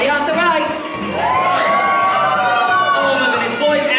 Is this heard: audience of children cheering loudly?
yes